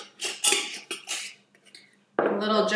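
Spinach pita filling tossed gently in a bowl gives a few soft clinks and scrapes of utensils against the dish, close and quiet, with a brief denser rustle at the end.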